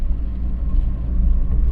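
Fiat Seicento Active engine heard from inside the thin-walled, poorly insulated cabin while driving, a steady low droning rumble with a constant hum and no talk over it.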